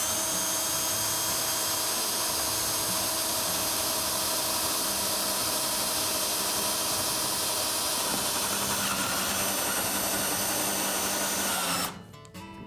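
A power drill bores through three stacked, clamped wooden pallet boards, a loud continuous whine held steady for about twelve seconds before cutting off abruptly at the end.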